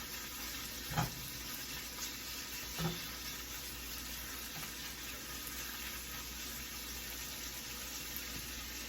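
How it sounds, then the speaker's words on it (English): Steady sizzling of bacon frying in a pan for breakfast, a constant crackling hiss with a couple of faint knocks, no voices. "So let it fry."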